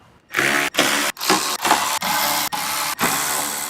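A power tool whirs in repeated short bursts, about seven, each cut off by a brief pause, while bolts come out of the lower front bumper on a 2010-2024 Toyota 4Runner during a Cali Raised Stealth Bumper install.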